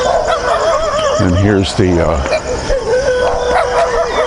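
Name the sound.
dogs barking and howling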